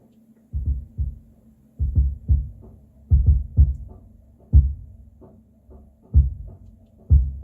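Deep, boomy kick drum hits played alone in an uneven groove, captured with a Solomon subkick microphone, heavy low thump on each strike with a faint hum between beats.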